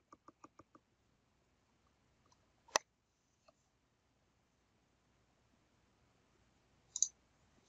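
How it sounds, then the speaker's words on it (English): A computer mouse clicks: a quick run of light taps at the start, one sharp click, then a final double click, all near and fairly faint against a quiet room. "And then I'll go ahead and click on OK."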